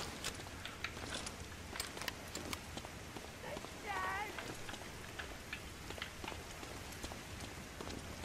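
Steady rain patters in the World War II shooter Medal of Honor: Allied Assault Spearhead, with scattered sharp drop-like ticks and a brief chirp over a faint, continuous wash.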